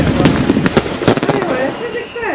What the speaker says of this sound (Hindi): बेंगलोर में देखिए लोग पटाखे फोड़ रहे हैं।